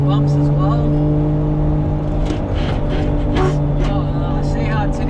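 Modified Nissan R33 Skyline on lowered BC Racing coilovers driving over bumps on a mountain touge road, with a steady engine drone and road rumble throughout and a person talking over it.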